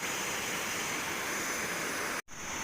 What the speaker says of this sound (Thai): ตอนนี้นะคะเราก็มาถึงน้ำตกท่าเส้นกันแล้วนะคะ